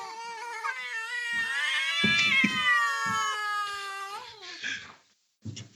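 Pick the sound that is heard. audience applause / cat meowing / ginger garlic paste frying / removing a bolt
cat meowing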